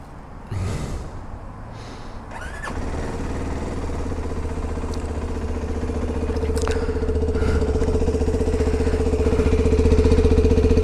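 A Morbidelli T125X motorcycle engine is started, with a short crank and catch after a few seconds of close breathing noises. It then settles into a steady, buzzing idle recorded right at the exhaust, growing slightly louder over time.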